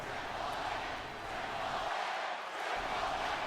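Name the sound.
crowd cheering and booing in video game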